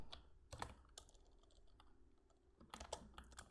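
Keystrokes clatter on a computer keyboard in short bursts with a pause in the middle, crisp and close but fairly quiet, with no talking.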